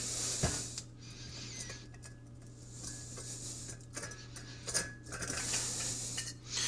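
A cheap isobutane camping stove, a knock-off of a pocket rocket model, being screwed onto a fuel canister: faint metallic clicks and scraping threads, close and quiet, with a steady low hum underneath and no talking.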